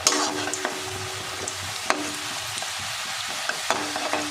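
Nimki, crisp flour pastries, fry in hot oil while being stirred, a steady sizzle broken by repeated scraping clinks of the spatula against the pan at irregular intervals, close and alone.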